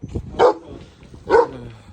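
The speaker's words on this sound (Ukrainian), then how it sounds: "Собака гавкає." A farm dog barks twice, about a second apart, fairly close and loud, during work winnowing soybeans, with low rumbling background noise between the barks.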